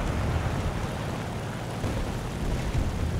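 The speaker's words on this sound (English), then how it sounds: "I've got a friendly P-51 that's going to come in and join me. You can hear him behind me and above me." A friendly P-51 fighter plane in the War Thunder flight game, its piston engine a steady broadband roar that stays constant and fairly loud throughout, with no talking.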